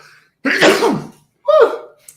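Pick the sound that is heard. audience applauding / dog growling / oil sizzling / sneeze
sneeze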